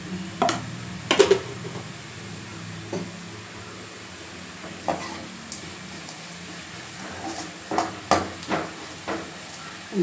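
Amaranth greens sautéing in a pan with turmeric for a South Indian keerai kadaiyal, heard as a quiet steady sizzle broken by occasional scraping stir strokes and clinks of a spoon against the pan.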